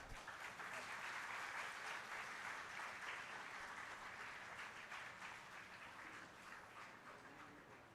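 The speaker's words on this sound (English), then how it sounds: "Meet them with a big clap." A crowd claps steadily, a dense wash of applause that holds evenly and tapers slightly toward the end, fairly distant.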